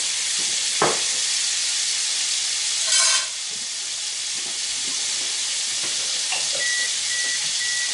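About two teaspoons of garlic hit a hot pan and sizzle with a steady bright hiss, broken by a few short clinks and scrapes of stirring.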